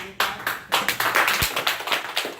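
Scattered applause and laughter at a city council meeting, a modest group clapping in uneven bursts that rise and fall, fairly close, with no talk over it.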